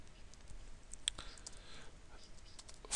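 A few quick key clicks as a short command is typed on a computer keyboard, faint and close over a low hiss.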